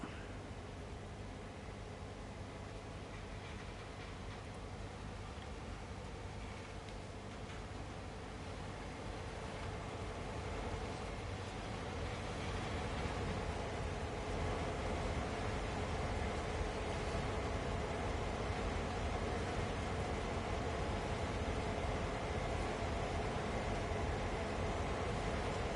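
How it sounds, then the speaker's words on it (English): A freight train starts moving during New York shunting in Train Sim World, a steady broadband rumble that builds and stays loud throughout, with no voices. "Let's get the train started."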